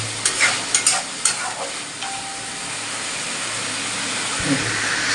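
Masala spice paste fries in oil that has begun to separate. A spoon scrapes and stirs a few times at first, then a steady, close sizzle and hiss carries on alone.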